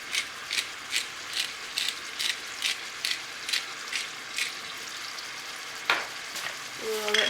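Bacon-wrapped, spinach-stuffed chicken breasts sizzle softly in a frying pan under a regular series of short scraping or clicking strokes, with a clatter near the end.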